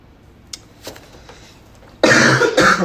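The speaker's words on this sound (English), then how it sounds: "So if you hear me cough, I apologize." A person who has a cold coughs once, a loud, close, rough burst lasting almost a second after a quiet pause with a few faint clicks.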